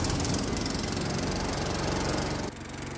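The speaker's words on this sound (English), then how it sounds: "It sounds like there's an exhaust leak." A small petrol engine idles loud and close with a steady, rapid chugging pulse and a raspy edge from an exhaust leak at the flange, dropping slightly in level near the end.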